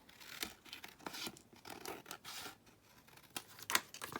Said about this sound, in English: But let's cut these down now. So just cut around the frame.